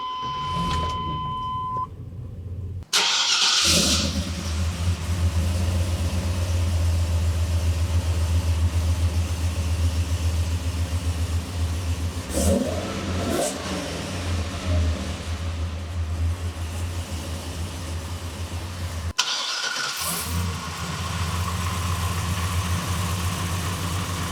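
A Chevy Tahoe fitted with a ZR1 engine, with a brief electric fuel pump whine, then the engine cranks and catches, settling into a loud, close rumbling idle with small throttle variations and a short interruption near the end.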